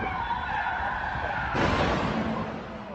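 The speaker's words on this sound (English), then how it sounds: "The horrifying sound of the crash." Car crash with skidding during a reported car theft: a sustained tire skid runs for about a second and a half, then a louder, broader impact-like burst follows, with distant traffic noise around it.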